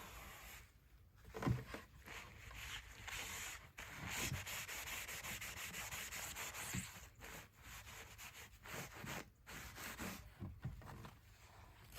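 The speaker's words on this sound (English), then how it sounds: "we're just going to lightly sand it and inside and out to get it ready for the fiberglass coating" A drum shell is lightly sanded inside and out, giving steady, close abrasive rubbing with brief pauses and shifts in stroke, fairly quiet and with nobody talking.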